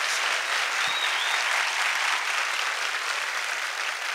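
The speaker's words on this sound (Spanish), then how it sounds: "Fuerte el aplauso para el maestro Teo González, por favor." Steady, dense applause from a comedy show audience honoring a comedian, a continuous even wash of many hands clapping at full loudness throughout.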